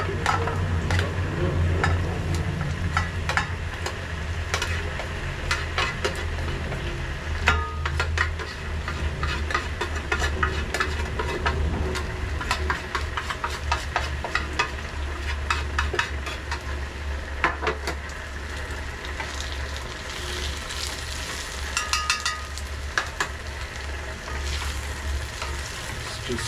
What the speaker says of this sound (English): To that pot now, we add the beef.